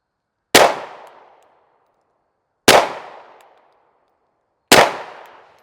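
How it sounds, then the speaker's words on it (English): Three sharp pistol shots fired at a target, evenly spaced about two seconds apart, each a loud close crack with a short decaying tail and silence between. "now I'll shoot a couple where I'm pulling it straight to the rear"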